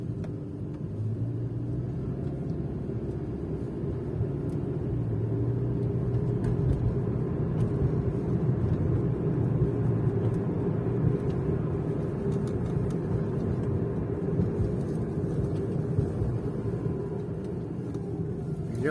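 Inside a Toyota Prius on summer tyres while accelerating, a steady low rumble of road and tyre noise fills the cabin, even and continuous with no talking.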